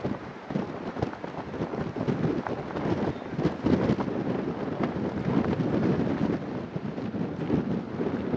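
Strong wind with rain at Marina beach makes a dense, steady roar with buffeting gusts against the microphone, continuous and fairly loud throughout, with no talking.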